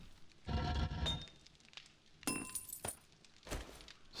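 A piece of glass placed into a storage container in 7 Days to Die on Xbox One, heard as a few close, crisp glassy clinks and a brief shattering-like rattle, separated by quiet gaps.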